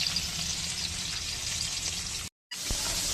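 Steady crackling sizzle of pabda fish frying in hot oil in a kadai, close and continuous, with a brief dropout of silence near the end.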